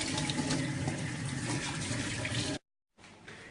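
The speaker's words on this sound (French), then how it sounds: "Et on lave les légumes." Tap water runs steadily as vegetables (tomato, carrot, courgette, bell pepper) are rinsed in a sink, a dense close splashing wash that cuts off abruptly, then resumes briefly after a short silence.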